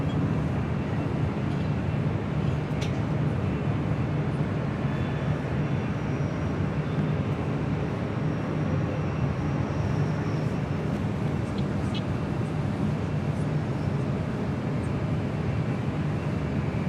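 A Southwest Airlines Boeing 737-800 at Los Angeles International Airport gives a steady, broad jet roar that holds loud and even for the whole stretch, with a faint higher tone drifting through.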